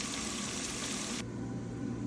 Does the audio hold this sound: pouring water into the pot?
yes